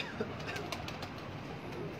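Pigeons, kept as a hobby in a loft, coo softly in a faint, distant murmur of low repeated calls over background noise.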